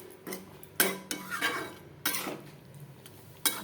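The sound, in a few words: stirring prawns into jackfruit curry in a pot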